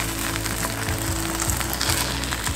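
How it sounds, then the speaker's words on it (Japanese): Food browning in a pan, a loud, dense, even sizzle and crackle, close and steady throughout with no talk. "あと気持ち1分弱ぐらい焼いていきたいと思います"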